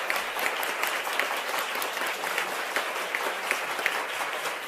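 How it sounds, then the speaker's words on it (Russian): Steady applause from an audience fills the scene with dense, even clapping at a moderate distance, sustained without pause for several seconds. "Аплодисменты!"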